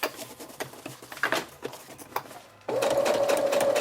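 Sewing machine back stitching a cloth diaper, starting with slow, uneven stitch taps and rattles, then a brief pause before a steady, faster continuous whirring run of stitches close by.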